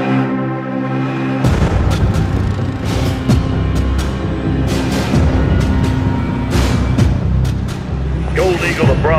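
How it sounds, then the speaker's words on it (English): Loud, continuous battle in Call of Duty: Modern Warfare III (2023), with repeated booming blasts and sharp gunshots layered over a low rumbling bed and a rising whine near the end. "Security confirms gunfire and at least one explosion in the stadium with multiple injuries."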